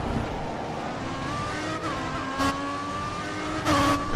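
Ferrari and Marussia race cars in a racing video game, engines whining at high revs with pitch shifting through gear changes, a couple of brief louder bursts as cars pass close.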